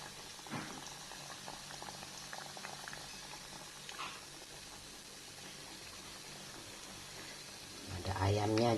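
Nuggets frying in hot oil in a pan on a stove, a steady bubbling sizzle throughout with a few small pops and a louder clatter near the end.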